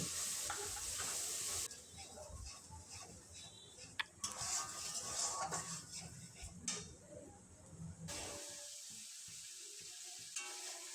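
Tomato paste frying with cooked-down spices and oil in a pan, a soft hiss and sizzle with intermittent stirring scrapes, fairly quiet and close, with brief gaps.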